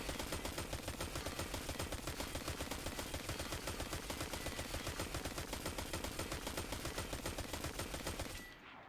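Rapid automatic gunfire from the video game Horror Story rattles loud and unbroken at a fast, even rate, its thin, light reports cutting off abruptly just before the end.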